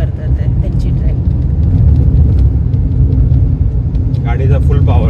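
A Mahindra XUV700 cruises at full power on a long road trip, its cabin filled with a steady, loud low-pitched engine and road rumble throughout, with a brief voice near the end.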